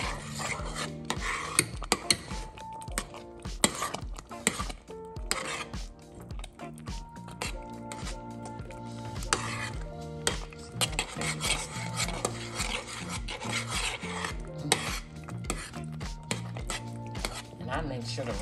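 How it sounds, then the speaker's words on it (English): A spoon scrapes and rasps against a pot while Spanish rice is stirred, giving repeated close scraping and clinking strokes in an uneven rhythm, with a kitchen hum underneath and no talking. "I take that top back off and I look at it and then I come along and I stir it again."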